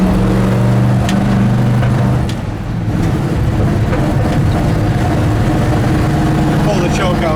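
A 1958 Chevy Apache truck engine runs steadily while warming up with the choke pulled, a loud continuous low rumble close by with a brief dip, as someone talks over it.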